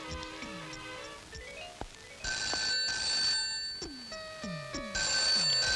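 A telephone rings in an office with a warbling electronic ringtone of repeated tonal bursts, steady and fairly loud, with a few short sliding blips mixed in and no talking.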